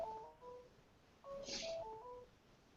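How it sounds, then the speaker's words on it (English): A phone on a call sounds repeated short electronic beeping tones, two quick groups of stepped two-note beeps separated by a pause, faint and alone against low background noise. "I hear like this do-do-do-do-do thing on my phone."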